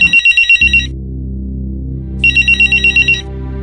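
A phone rings with an incoming call: two bursts of rapid trilling electronic ring, separated by a steady low tone. The ringing is loud and close, with no voices.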